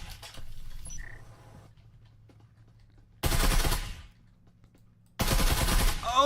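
Two sharp bursts of rapid automatic gunfire crack out in a VR Breachers competitive match, each about a second long, separated by near silence after faint quieter shots at the start.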